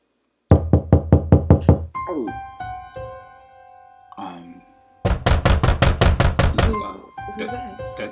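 Knocking on a door comes in two loud, rapid bursts of about eight raps each, with a sustained tonal chime between them and voices talking around the knocks.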